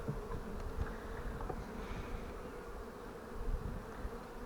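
A honey bee swarm too large for its swarm box drones in a dense, continuous buzz, close and steady with no voices.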